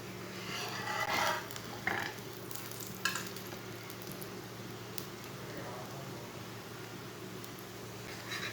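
Flatbread frying in a pan for a quick breakfast, a soft steady sizzle with a few scraping and flipping sounds, faint under a low background hum.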